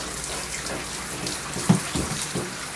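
Tap water runs steadily over a matted Goldendoodle while a brush works conditioner through its coat, a soft continuous hiss with a few small splashes and knocks.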